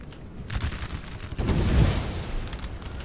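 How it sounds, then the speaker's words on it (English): Grenades go off amid a Napoleon: Total War battle, a rumbling cluster of muffled blasts and crackling gunfire swelling mid-way through a short stretch, with no talking. "there were the grenades"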